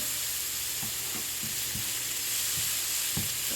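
Garlic sizzles steadily in hot oil for vegetarian fried rice, a continuous bright hiss with soft occasional stirring taps underneath.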